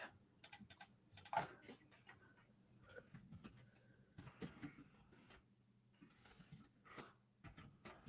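Computer keyboard typed on in short irregular bursts of quiet clicking keystrokes, close and faint, with pauses between clusters.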